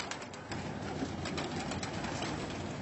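Pigeons in a loft or coop cooing steadily close by, a soft continuous murmur of calls with a faint background hum.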